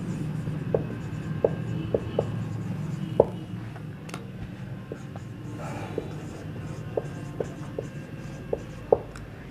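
An example being written by hand, likely a pen or chalk on a writing surface: a run of faint, irregular strokes and taps with short pauses, close and quiet over low room noise.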